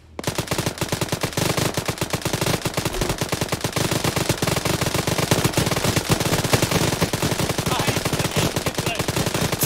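Dense, rapid gunfire rattles without pause through a video game firefight, loud and close, with automatic bursts blending into a continuous crackling barrage.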